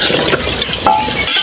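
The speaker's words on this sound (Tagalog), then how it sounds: "Haluin na natin." Spicy bulalo, a Filipino beef shank soup, stirred in a cooking pot, giving a steady wet swirling and bubbling texture with a faint utensil clink, close and continuous.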